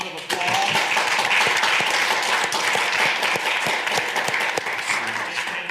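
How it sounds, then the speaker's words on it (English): Sustained applause from a conference audience rewarding panelists at a Davos cybersecurity panel, a dense wash of many hands clapping steadily for several seconds with some voices mixed in. "Let's give these guys one final round of applause."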